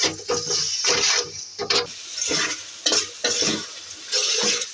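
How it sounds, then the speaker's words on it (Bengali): Ingredients seasoned with turmeric and salt are stirred and fried in a pan for bhindi bhaji, with bursts of scraping and sizzling repeating in a loose rhythm, close and moderately loud. "এখন এগুলো দিয়ে ভালো করে কষাবো।"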